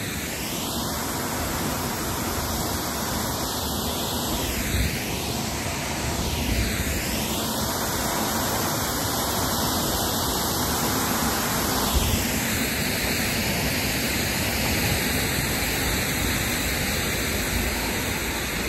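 Strong rushing water of a waterfall, a dense, loud and steady roar holding constant for the whole stretch with no talking over it.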